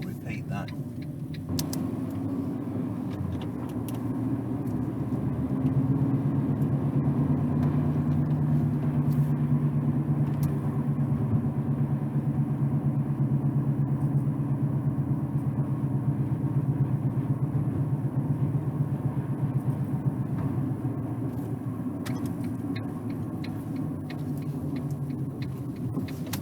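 Car coasting at 40 miles an hour, a steady low road and drivetrain rumble heard from inside the cabin, with faint ticking and a voice over it.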